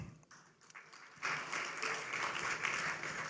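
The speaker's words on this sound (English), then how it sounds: "Yes, a round of applause." A conference audience breaks into applause for utility commissioners, a soft spatter of claps swelling into steady, moderately loud clapping after a brief quiet start.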